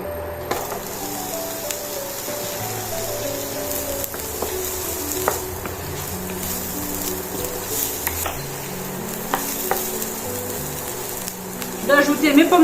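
Onion fries in olive or sunflower oil in a pan, a low, steady sizzle under soft background music, with occasional utensil clicks and a louder clatter near the end.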